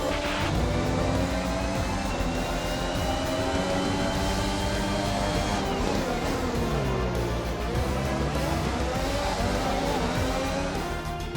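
An F1 2021 race car cruises into the pits in Azerbaijan Grand Prix gameplay at Baku, its engine droning steadily and loudly for the whole stretch with no pauses, layered game sound and no speech.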